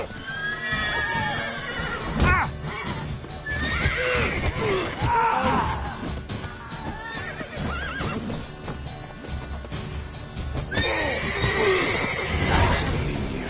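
Horses in a PS4 video game neigh and whinny repeatedly while hooves clip-clop steadily underneath, loud and close, with game music and effects filling the background throughout.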